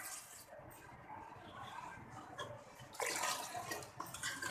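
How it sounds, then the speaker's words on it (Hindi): Water is poured from a glass into a pot of meat for beef nihari, a steady splashing pour that grows louder and rougher toward the end. "4 प्याली पानी डाला है इसमें गोश्त गलाने के लिए।"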